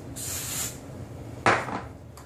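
Hairspray hissing onto teased hair for a vintage updo: a long, soft aerosol burst, then a sharper, louder spray after a pause, close by with no voices.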